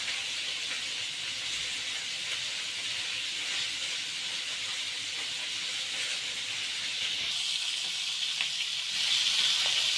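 Continuous sizzling and hissing of food frying in hot oil, steady and close, growing slightly brighter near the end; no talking.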